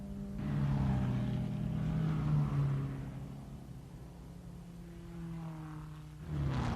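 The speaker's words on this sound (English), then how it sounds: "The Lancia Ferraris round the carousel." Lancia Ferrari racing cars roar around the Nürburgring carousel at a Grand Prix, a sustained engine drone rising and falling in pitch as they pass at a moderate distance, with no talking.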